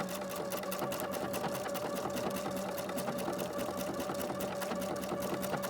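A PFAFF creative icon sewing machine stitches ribbon in a steady, fast, even hum of needle strokes, close and continuous throughout with no talking.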